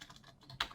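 Keys clatter on a computer keyboard as an email address is entered, a run of soft, quick clicks ending in one sharper, louder keystroke, with no one speaking.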